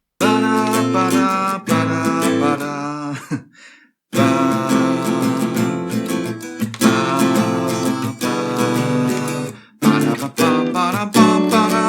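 A sequence of sustained harmonic chords from a Splatoon 3 track moves along in steady phrases, with brief pauses between sections and no voices.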